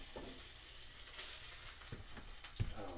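Close, steady sizzling of chicken searing in a hot pan, a soft crackling hiss with a few light clinks and scrapes.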